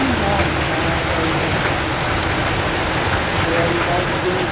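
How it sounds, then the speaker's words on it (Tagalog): Heavy rain pounds steadily on a house roof, a dense, close, unbroken hiss with faint voices underneath. "Ayan guys, dinig nyo naman ang lakas ng ulan."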